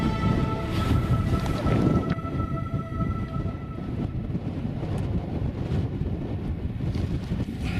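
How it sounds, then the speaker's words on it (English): Strong, steady wind buffeting the microphone on the exposed summit of a Snowdonia mountain, a continuous loud roar with gusts and no voices. "It's a bit windy up here to camp"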